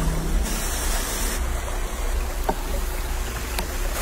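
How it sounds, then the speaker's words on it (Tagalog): River water flows steadily as a broad, continuous rushing close by, with no voices. "Hindi talaga sa tabi ilog, nasa ilog talaga."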